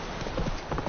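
Horse hooves clip-clop in a quick, steady patter in a PS4 video game, close and fairly loud over a continuous background wash.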